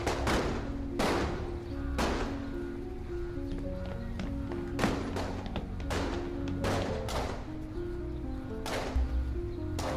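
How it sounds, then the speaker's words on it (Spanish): Gunfire in a tense scene: a rapid series of sharp, loud bangs and thuds repeating irregularly across the whole stretch, with no speech. "¿No escuchas los disparos?"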